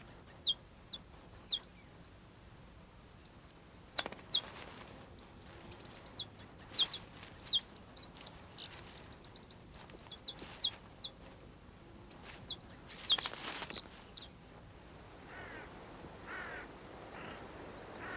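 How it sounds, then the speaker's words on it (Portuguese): A white-winged grosbeak calls from a juniper in high mountains, giving faint, scattered short notes and chirps over quiet background, with a denser burst of calls partway through. "O mesmo junípero serve de abrigo para o bicudo de asa branca."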